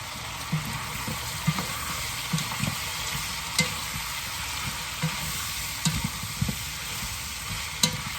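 String beans fry in a pan for adobong sitaw with a steady hiss and sizzle, while the spoon scrapes and clacks now and then as they are stirred. No one speaks.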